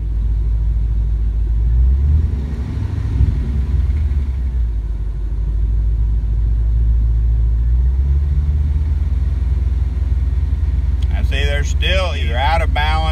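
A 1985 Chevrolet S10 Blazer with a 4.8 V8 swap and T-5 manual transmission runs with a steady low rumble and a driveline vibration. A voice speaks briefly near the end.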